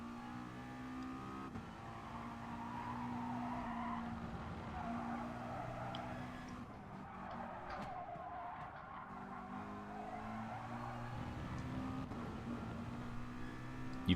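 A McLaren race car in Gran Turismo Sport, its engine droning and revving through shifts while tires skid and squeal through corners, sustained and fairly quiet, with no voices over it.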